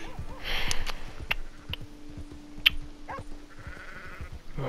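A sheep in a video game lets out short, nasal bleats, scattered among sharp game clicks and hit sounds at moderate volume.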